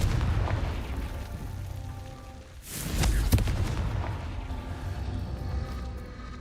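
A Confringo fire spell detonating in the Hogwarts Legacy video game, a single heavy blast midway that booms and rumbles before trailing off into a low background hum.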